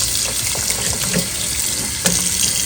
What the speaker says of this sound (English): I have some two pieces of saltfish, so I'm gonna wash those